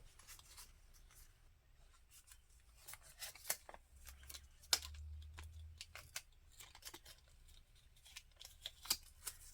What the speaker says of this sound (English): There's just enough white in between all of these images that you can kind of just cut out what you want here.